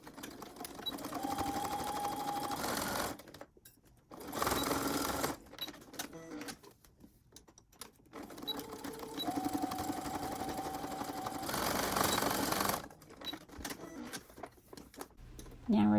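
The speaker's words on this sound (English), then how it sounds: "top stitching the sides where the elastic is held twice" A sewing machine top stitches the sides of a fabric face mask over held elastic, running in several close, loud bursts of rapid whirring with quieter gaps where fabric is repositioned.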